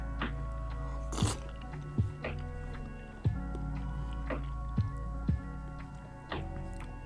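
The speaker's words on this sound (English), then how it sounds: "Let's get it squash and potato and carrot all in one shot" Squash, potato and carrot from Mexican meatball soup are chewed close up, with soft crunches and wet bites recurring at an irregular pace over a faint steady hum.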